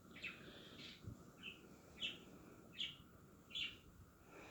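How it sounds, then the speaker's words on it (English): A pet parrot chirps in short bright bursts, five or so calls spaced about a second apart, moderately close and fairly quiet against a soft indoor background hum. "You chirping away over there"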